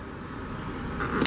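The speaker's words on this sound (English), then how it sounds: "Bring the automatic driver's side window back up." A 2016 BMW X5 xDrive35i M-Sport's automatic driver's side power window motor hums steadily as the glass rises, ending with a brief thunk as it seals shut, close up.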